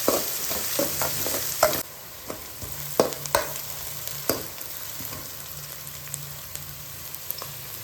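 Onions and slit small green chillies sautéing in a pan for a fish curry, with a steady sizzle broken by repeated clinks and scrapes of a stirring spoon, close and moderately loud, no talking.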